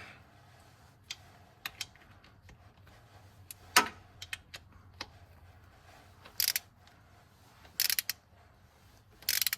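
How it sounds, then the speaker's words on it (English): An IMS bearing bolt on a Porsche Boxster is tightened with a ratchet and bit. Sparse, faint clicks and metallic ticks are followed by a few short, brighter ratcheting bursts toward the end, close up and with no speech. "Get the appropriate bit and tighten this down to the specified torque."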